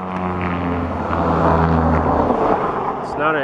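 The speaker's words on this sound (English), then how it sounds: "it's a vehicle going in the center divider, so it's hitting the city titties and making that propeller sounding effect" A vehicle drives along a city center divider, its tires hitting the raised lane markers to make a loud, steady, propeller-like drone that lasts throughout, with harmonic buzzing and passing traffic noise around it.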